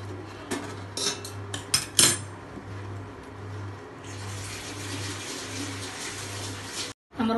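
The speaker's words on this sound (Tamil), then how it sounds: "இப்போ நம்ம அதை ஒரு 5 நிமிஷம் கிண்டுவோம்." Coconut rice payasam with jaggery being stirred in a pot, with a few sharp metallic clinks of a spoon against the pot followed by steady, softer scraping.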